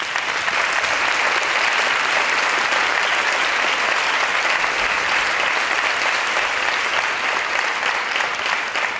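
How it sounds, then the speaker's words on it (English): Sustained, dense applause from a large audience at the Dance USA 2016 opening plenary session, steady and loud throughout with no pauses or voices standing out. "give a really warm round of applause for the Dance USA Board of Trustees"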